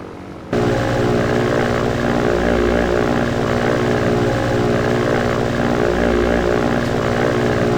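Twin propeller engines of a He 111 bomber in the WWII Online combat game drone loudly and steadily, close by, after a brief quieter start, with a continuous throbbing hum and no talk.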